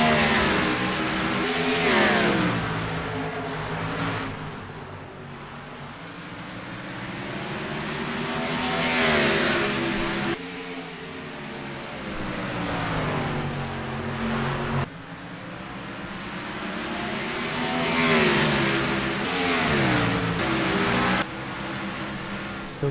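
Race cars in a sim racing game roar back to speed after a restart at Delaware, with engines revving continuously and loudly, pitch rising and dropping through repeated gear changes as the pack accelerates together.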